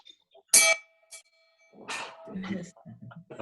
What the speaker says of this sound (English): Well, actually, it's a Navy bell.